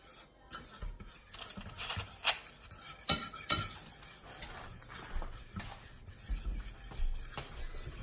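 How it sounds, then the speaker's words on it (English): Cake batter for a cola cake being stirred after half a cup of Coke goes in, a soft scraping, rasping rhythm of spoon against bowl with a couple of sharper knocks, fairly quiet and without talk. "Stir it good"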